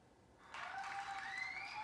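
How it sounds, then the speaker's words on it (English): Clapping sound effect played by a DSLR remote app on a phone, a broadband burst starting abruptly and continuing steadily, close and moderately loud. "You hear the clapping"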